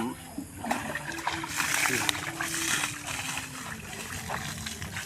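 Water is poured onto a potting soil mix made from garden leaves, with a continuous splashing trickle close by while someone talks over it.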